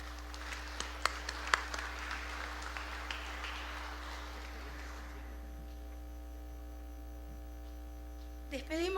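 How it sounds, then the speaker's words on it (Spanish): A parliamentary forum audience applauds to welcome a speaker, a burst of clapping that swells and then fades out after a few seconds, over a constant electrical mains hum. "Recibámoslo con un fuerte aplauso."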